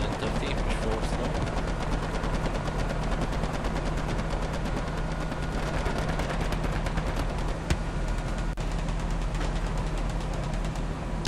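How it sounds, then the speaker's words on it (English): Sustained gunfire from a World War II battlefield in the Hell Let Loose game, a dense, steady rattle that runs the full length with distant booms mixed in and faint voices underneath. "I hear their machine gun fires"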